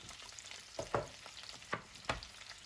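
Vegetables tossed into aromatic hot oil in a skillet, frying beside rabbit pieces: a faint, low sizzle punctuated by three or four distinct scraping knocks of a utensil, close but quiet, with no speech.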